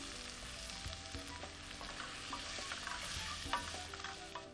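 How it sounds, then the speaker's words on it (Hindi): Finely chopped onion fries steadily with cinnamon and red chilies in hot oil, a dense continuous sizzle with scattered crackles and occasional stirring scrapes, close and even throughout, with no talking. "अब इसके अंदर डालते हैं बारीक कटा हुआ प्याज"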